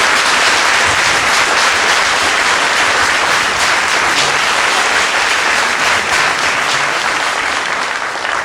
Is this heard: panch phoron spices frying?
no